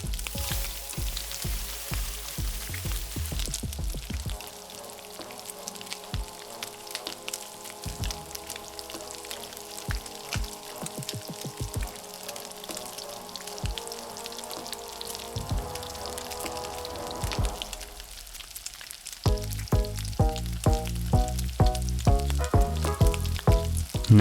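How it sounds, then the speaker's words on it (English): Shallots sauté in a hot pan, a continuous crackling sizzle with scattered pops and stirring clatter, growing louder and busier toward the end. "Now it's time to saute the shallots."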